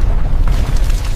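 A heavy explosion sound effect rolls out as a deep, loud boom with a rumbling low-end tail that lasts about a second.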